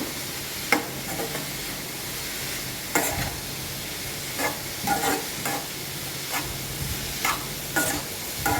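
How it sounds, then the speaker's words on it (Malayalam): Spatula scraping and stirring onion stalk stir-fry with turmeric in a pan, a steady soft sizzle under repeated sharp scrapes and knocks at irregular intervals, close and moderately loud. "ഇനി ഇതിലേക്ക് ലേശം മഞ്ഞൾ കൂടി ഇട്ടിട്ടുണ്ട്. അതും ഒന്നുകൂടെ നല്ലവണ്ണം ഇളക്കി യോജിപ്പിക്കുക."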